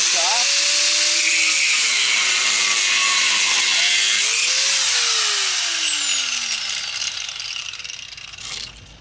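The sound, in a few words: small grinder grinding off a bolt end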